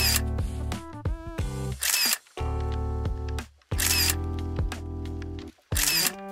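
Camera firing a rapid burst of shutter clicks, several loud mechanical bursts separated by short pauses, while shooting a group photo at a camper owners' camping meeting.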